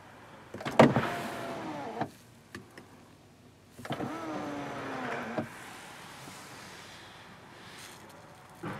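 Electric sunroof motor in a 2017 Bentley Mulsanne, a soft whirring drive running in several short bursts with pauses, a faint click and mechanical rustle between them, close and quiet inside the cabin.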